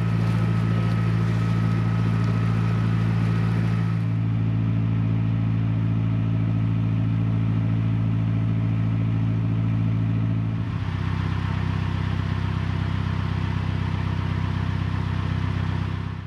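A narrowboat's diesel engine on the River Witham is put into reverse to clear weed from the propeller. The loud, steady drone shifts pitch twice as the gear and revs change, running continuously throughout.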